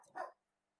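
A single short bark from a pet dog in a quiet indoor room, sharp and mid-pitched, coming after a brief soft sound and followed by near silence.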